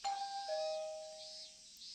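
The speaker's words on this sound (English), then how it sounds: "I pressed the doorbell." A doorbell rings in a game scene with a clear two-tone ding-dong chime, the tones sustaining and slowly decaying, fairly faint and alone.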